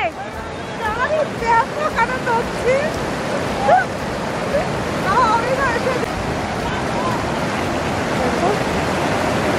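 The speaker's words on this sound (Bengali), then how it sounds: "মানে হচ্ছে ঝর্ণাটা খুব সুন্দর লাগছে" Waterfall in the Pahalgam valley alongside a river, a steady rushing roar of falling water, with crowd chatter and a voice talking over it.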